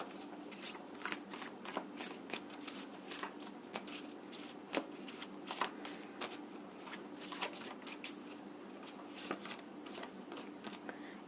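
Tarot cards shuffled steadily at close range, a dense run of crisp riffling snaps and papery flutters lasting throughout, with no talking.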